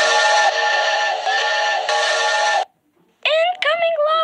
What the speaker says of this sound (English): Then she heard a whistle of danger.